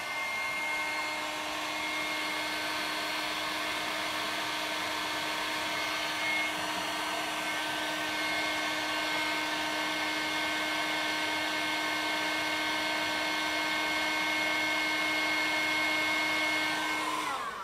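A heat tool blows steadily on the ends of a broken flexible wood moulding, a continuous even whirring hiss with a faint high whine, unbroken and fairly close for the whole stretch.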